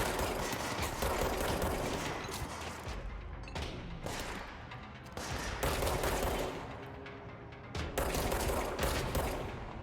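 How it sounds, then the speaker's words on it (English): Gunfire in the video game Control, sustained loud bursts of rapid shots and impacts layered with game effects, continuous and dense with only brief dips, no talking. "I'm gonna see what happens if I, like, preemptively shoot one of them"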